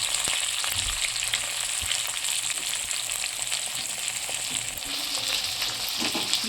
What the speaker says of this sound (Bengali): পেঁয়াজগুলোকে হালকা লাল করে ভেজে নেব।